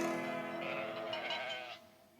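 A sheep gives one wavering bleat among lambs grazing new green grass, close and clear, fading out near the end.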